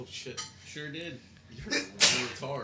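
A single sharp sneeze cuts through people talking at a live Dungeons & Dragons game session.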